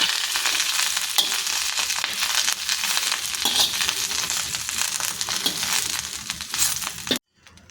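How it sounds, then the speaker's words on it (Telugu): Curry leaves roasting in a pan on low heat for curry leaf powder, a dense steady crackle and sizzle close up with occasional stirring scrapes, ending abruptly. "ఇలా వేయించుకోవాలండి."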